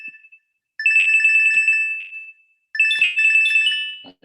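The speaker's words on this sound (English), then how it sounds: "my signal is ringing," A Signal app call ringtone plays on a computer, with two loud bursts of bright, warbling electronic tones separated by a short silence, close and clear with no talking.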